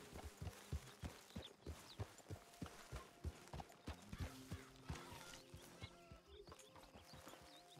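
Horse hooves clip-clop in a steady walking rhythm near the listener in the Red Dead Redemption 2 video game, with a faint neigh mixed into the busy camp ambience.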